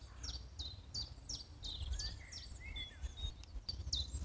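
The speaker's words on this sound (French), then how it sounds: "tu auras le chant des petits oiseaux" Small birds chirp and sing outdoors in a series of quick, bright whistled notes over a low, steady background rumble.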